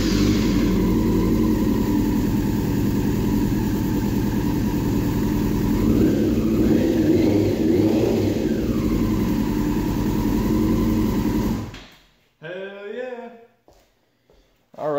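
A running 1999 Yamaha R6 motorcycle engine rumbles loud and close, rising in a rev around the middle, then cuts off abruptly, and someone speaks afterward.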